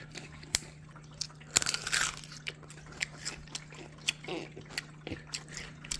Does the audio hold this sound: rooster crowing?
no